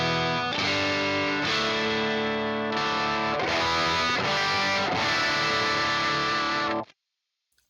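A distorted electric guitar runs through a Quad Cortex preset with a simulated Dynamic 57 microphone, playing loud rhythmic chords with chorus-like effects for about seven seconds. The chords then cut off abruptly into silence.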